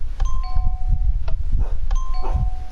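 Minecraft redstone note block doorbell chiming twice in a two-note ding-dong pattern, clear sustained tones over a low background rumble.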